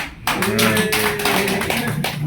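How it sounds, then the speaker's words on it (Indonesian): A small group claps together during a body harness fitting session, a burst of close, sharp handclaps that continues for about two seconds after a brief quiet start. "Kasih tepuk tangan"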